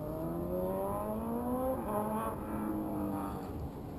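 A motorbike passes along a jetty, its engine note rising and shifting as it goes by at a moderate distance, a steady buzzing drone over constant outdoor background noise.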